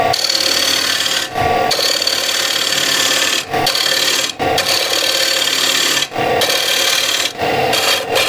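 A woodturning gouge, used on its wing as a scraper against wood, makes loud, close, rasping scrapes in long strokes. Brief pauses break the strokes at irregular intervals.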